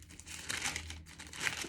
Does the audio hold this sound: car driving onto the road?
no